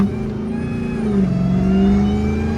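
A hoodless 1000hp Dodge Demon 170 Charger revs hard while sliding through a turn, its loud engine note rising and falling steadily, heard close from inside the car with no talk.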